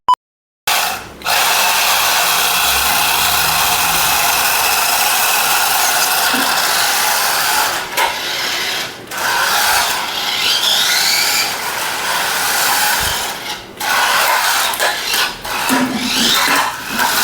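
An RC drift car's motor whirs and rasps loudly and continuously for about sixteen seconds after a brief silence, with a few short dips as it changes speed.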